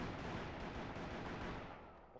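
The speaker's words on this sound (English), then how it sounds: "Wow, I just got shot." In the online Xbox 360 video game Call of Juarez, gunfire dominates, heavy and continuous and close, before tapering off at the end.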